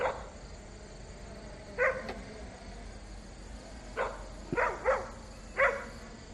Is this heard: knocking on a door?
no